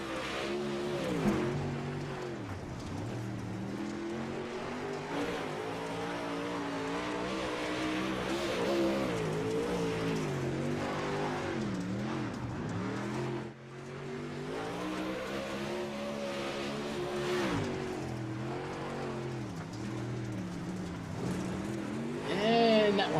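Dirt race car from the Northwest Racing Dirt Series at Charlotte in iRacing, engine droning loudly and steadily through a qualifying lap, pitch swelling and dipping through corners, with a commentator talking over it throughout.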